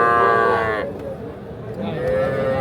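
Sahiwal cattle at a rural cattle market, with a loud close moo, a short pause, then a second drawn-out moo, over faint market background.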